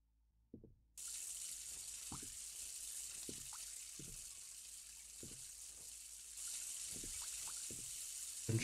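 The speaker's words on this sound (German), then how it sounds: "Wasser an." Steady running water from a tap in the Ghost Watchers game, a continuous hiss that starts abruptly after a moment of silence and stays even, with soft thuds of footsteps beneath it.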